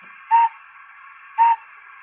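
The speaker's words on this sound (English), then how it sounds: "Function 3 is the short whistle" Two short, clean toots of a steam whistle from a DCC sound decoder in an EFE Rail model of an LSWR Adams T3 class 4-4-0 locomotive, evenly spaced about a second apart over a faint steady hum.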